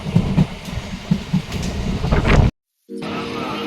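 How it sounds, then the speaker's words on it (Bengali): A Howrah–Goghat local train runs close by with a heavy rumble and rattling wheel knocks. The sound cuts out briefly before a steady hum takes over. "হাওড়া গোঘাট লোকাল যাচ্ছে"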